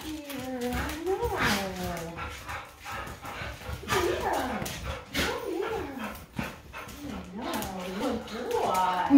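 An excited dog whimpers, yips and barks in a greeting, its rising, wavering whines close and loud. People chatter over it throughout.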